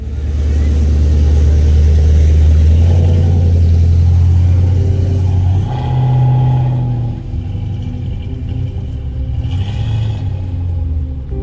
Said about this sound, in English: Ben just pulled my car around.